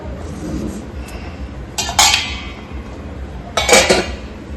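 Two sharp metallic clanks, about two seconds apart, as a lid is set onto a pot of white sauce pasta, close by over a quiet room.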